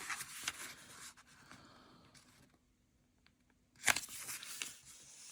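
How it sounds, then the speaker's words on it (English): Printed paper being folded for origami table favours: soft crinkling and rustling of paper being creased, with a sharper crisp fold near the end, all faint and close. "So fold it in half."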